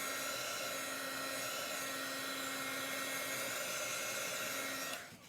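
A hair dryer blows on chalk paste with a steady, close, high whirring hiss that holds evenly for about five seconds before cutting off abruptly.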